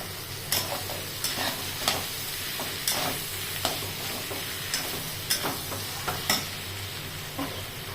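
Potato bhaji being stirred and sautéed in a pan, with repeated scraping strokes of the spoon every second or so over a steady soft frying sizzle, close up and with no talk.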